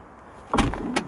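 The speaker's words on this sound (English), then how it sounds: "soft closed doors." Soft-close door on a Mercedes 500 CL pulling itself shut, a single quiet motorised thunk followed by a brief second latch click, close and alone.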